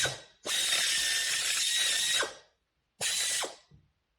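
Pneumatic air ratchet loosening the brake caliper bolts on a Corvette C3 Stingray V8: two loud, close bursts of whirring rattle, the first nearly two seconds long, then a short pause and a second shorter burst, with no talking.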